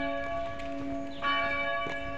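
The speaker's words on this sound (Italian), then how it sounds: "le campane sono della chiesa del Santissimo Redentore" Bells of the Santissimo Redentore church ring with a sustained, resonant tone, the metallic peals overlapping and fairly loud with no talk over them.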